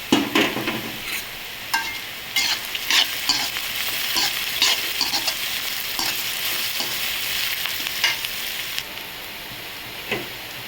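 Sliced onions with rock salt fry in hot oil in a pan, a continuous close sizzle broken by frequent scraping stirs of a spoon against the pan.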